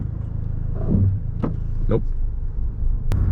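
A 2012 Scion tC engine idles roughly up close while being pushed toward stalling, with a steady low hum and a few brief surges, and a short spoken word over it.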